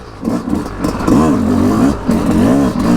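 A Yamaha YZ250X two-stroke dirt bike engine revs up and down in loud, close surges with a rising and falling pitch while being ridden.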